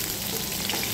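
Chicken sautéing with garlic and onion, a brief dense hiss of frying that stays even and close throughout, without any speech.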